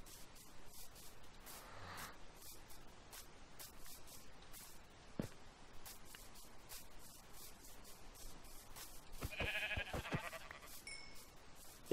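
Sheep bleat in Minecraft during a Slender survival game, a couple of short bleats around the middle and a louder one near the end over a steady hissy game background, with no talk.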